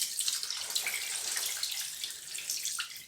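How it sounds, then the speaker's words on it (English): Soapy wash water pours out of the opening of a travel laundry bag, a close, continuous splashing trickle that wavers in strength and eases toward the end, with no talking. "the way I like to empty out the water is to kind of hold the opening so the clothes can't fall out,"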